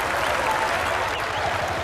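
Crowd at a 1990 West Indies versus England Test cricket match applauding, an even, continuous patter of clapping with faint murmuring underneath.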